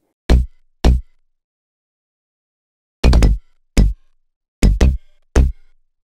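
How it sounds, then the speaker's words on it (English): A plucky synth bass from the Quadra instrument fuser, processed with OTT compression and a touch of vocoder, plays six short, punchy notes in two separated groups, loud and dry with silence between hits. "Quadra instrument number 3 is a plucky bass that I once again processed with OTT and a smidge of vocodex"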